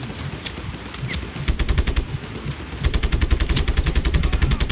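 Rapid automatic gunfire from the Just Cause 3 video game, loud bursts of closely spaced shots that grow denser and heavier toward the end, with no talking.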